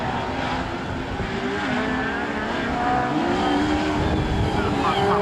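Several autograss race cars roar around the dirt track at Castle Combe, their engines droning and rising and falling in pitch at a distance, with a commentator's voice faintly audible beneath the steady racing noise.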